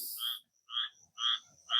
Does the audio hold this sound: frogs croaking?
yes